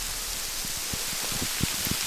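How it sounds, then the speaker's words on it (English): Spring hail falls onto a lake in a continuous dense hiss, with scattered sharper ticks and pops of stones hitting the water growing through the stretch, moderately loud and unbroken by talk. "Downside to fishing in the spring. Like hail. Literally."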